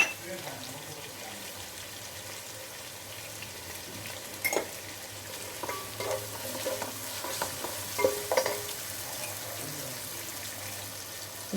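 Onions with a pinch of salt sauté in a pan, a soft steady sizzle with occasional scraping stirs and clinks, fairly quiet and close, under a low background hum.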